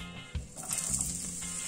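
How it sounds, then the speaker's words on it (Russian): Chopped onion frying in vegetable oil in a pan for a tomato meatball soup, a steady soft hiss and sizzle with faint crackles, close and moderately quiet, with no talking. "брошу на сковородку лучок, пусть он пока прижаривается"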